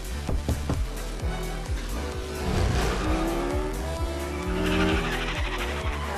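Cars in the Fortnite video game racing close by, engines revving with repeated thumping impacts and long squealing tire skids, loud and continuous.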